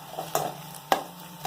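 Fenugreek greens being stir-fried in ghee in a pan, a low steady sizzle broken by a few distinct scrapes and stirring knocks, close up with no talking.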